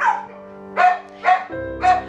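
Dog at an animal shelter gives three or four loud, close barks spaced about half a second apart, standing alone with no talk.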